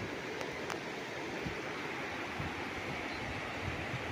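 A river rushes past rocks at a riverside property in Magdalena, Laguna, heard from atop a large boulder: a steady, broad wash of flowing water, close and even, with a few faint knocks and no talk.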